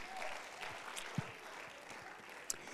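A church congregation claps during a sermon, a faint and distant wash of steady hand clapping that continues for a few seconds.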